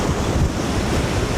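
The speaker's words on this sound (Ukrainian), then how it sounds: "Вітер страшенний, не знаю, чи чути." Strong wind batters a microphone on a sheer mountain cliff edge in Triglav National Park, Slovenia, a loud, continuous rumbling roar with heavy buffeting and no break throughout.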